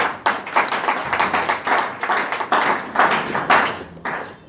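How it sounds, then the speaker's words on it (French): Close, loud audience clapping at a political campaign launch rally, uneven bursts of hand claps with slight rhythmic swells, running for several seconds without talk. "qu'on va applaudir très très fort pour eux."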